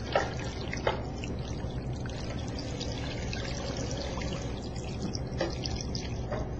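Water poured into a pot over chicken bones for stock, a continuous close trickling and splashing stream with a few small sloshes, no voices.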